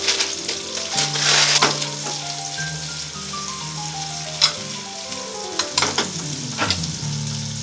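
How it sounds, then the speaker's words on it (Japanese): Sun-dried shiitake mushrooms and whitebait are stir-fried in a pan with a loud, continuous sizzle and scraping stirs. Music plays underneath, and there is no talking. "ここに天日干しチックにした椎茸を混ぜて炒める。"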